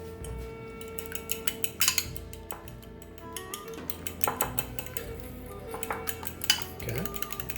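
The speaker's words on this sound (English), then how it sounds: "I'm going to crack an egg, and this is going to act as our paste" A whisk or fork ticks and clinks lightly against a bowl while an egg is beaten into a paste for sealing shrimp egg rolls, with quick uneven taps and a soft background hum.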